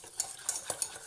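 A spoon stirs pastry cream mix into milk in a saucepan, giving soft scraping swishes with several small clinks against the pan, close and quiet, with no talk.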